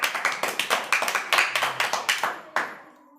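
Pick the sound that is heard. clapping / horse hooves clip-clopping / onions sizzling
clapping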